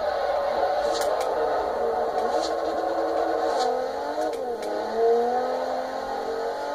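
A car engine in the Forza Horizon 2 racing game revs and whines through a drift, holding a steady high drone with pitch sliding up and down and a few brief tire-like chirps.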